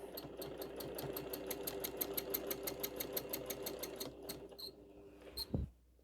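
A sewing machine quilts a tree-and-leaf design with rapid, evenly pulsing stitches, then slows for a few locking stitches before stopping with a brief clunk near the end.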